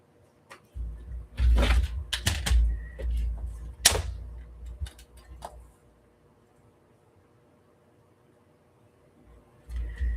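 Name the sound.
cutting a strip of paper for journal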